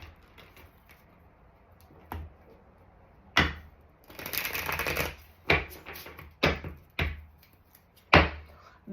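Tarot cards are shuffled and slapped down in sharp, close knocks spaced a second or so apart, with one longer riffling burst in the middle; no one speaks.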